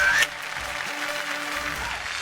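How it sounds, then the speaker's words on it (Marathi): Studio audience clapping for the winner of a game on a Marathi women's television show, a short, steady burst of moderately loud applause that starts right after a brief tone. "जोरदार टाळ्या."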